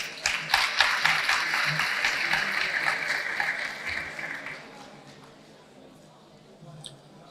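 Applause from an audience greeting a speaker at a parental-rights and inclusive-education event, dense and loud at first, then thinning out and fading over several seconds, with a few scattered claps near the end.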